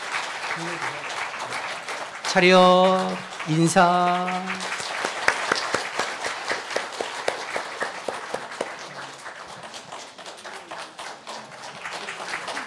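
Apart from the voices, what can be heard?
church congregation applauding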